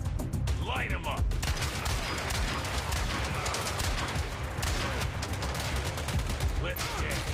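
Video-game gunfire during a gangster city mission: dense, unbroken volleys of automatic weapons and shots that pile into a loud, continuous roar for the whole stretch.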